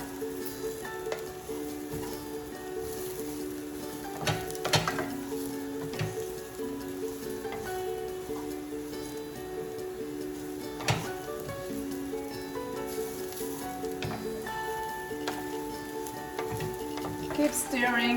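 Lentils fry golden brown in a pan while being stirred, a soft steady sizzle with occasional scraping knocks, fairly close, under faint background tones and murmurs.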